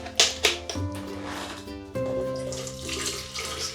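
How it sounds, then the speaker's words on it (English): Apple juice poured into a container holding leftover fruit pulp for homemade cider, splashing and gurgling steadily, then sloshing as it is shaken, with a few sharper clinks near the start. "I'm going to pour some apple juice in here and just give it a shake"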